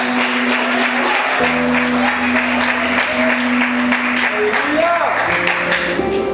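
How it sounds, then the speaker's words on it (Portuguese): A church congregation applauds steadily throughout, mixed with music and voices ringing out over the clapping. "Aplaude o Senhor mais forte."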